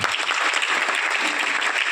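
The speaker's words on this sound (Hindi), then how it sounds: "जोड़ तालियां होनी चाहिए" A crowd applauds steadily and loudly, a dense wash of clapping hands with no pauses.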